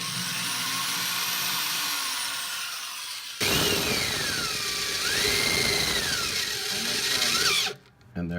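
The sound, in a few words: drilling a pilot hole with a small drill bit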